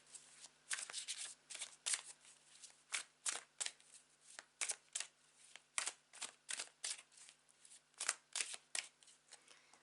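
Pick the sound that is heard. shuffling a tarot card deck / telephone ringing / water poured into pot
shuffling a tarot card deck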